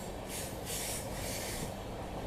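Mumbai-Delhi Rajdhani Express hauled by two locomotives on a ghat section, heard as a steady, loud rumble of rolling railcars and wheels with a hiss on top, continuous with no voices.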